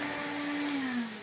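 Homemade cordless 20V brushless Hoover Hooverette vacuum runs with a steady whirring hum and a tone that sags slightly in pitch, close and alone.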